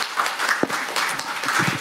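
An audience at a policy forum on the Saemangeum tidal power plant applauds to welcome the session chair, a steady wash of clapping from a seated crowd lasting under two seconds, with no talk over it.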